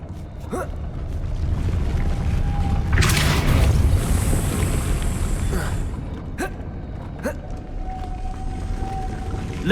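Depulso spell cast in Hogwarts Legacy, a loud whooshing, rumbling force blast lasting a few seconds over a low game ambience, with brief sharp clicks before and after.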